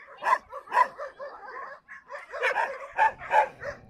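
Several dogs bark, yip and whimper while playing in the daytime play area of an animal shelter, a lively, overlapping run of close barks that barely pauses.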